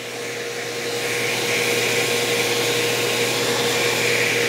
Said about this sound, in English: Okay, now let's use the suction and scrub